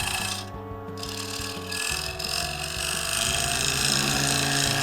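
A bowl gouge cuts a shallow, wide fiddleback claret ash bowl spinning on a lathe, giving a steady rasping, scraping hum with a low motor drone underneath, close and moderately quiet.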